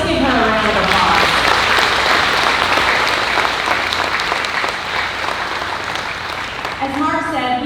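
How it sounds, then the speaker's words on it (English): A crowd at the 2021 Missouri State Fair Sale of Champions applauds steadily for the State Fair Queen, dense clapping sustained throughout with cheering mixed in and a voice returning near the end. "So let's give her a round of applause."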